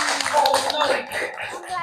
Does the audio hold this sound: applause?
yes